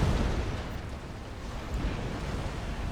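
Rumbling artillery fire and explosions from the Supreme Commander Forged Alliance strategy game, a dense continuous low-frequency barrage heard loud and close with no talk over it.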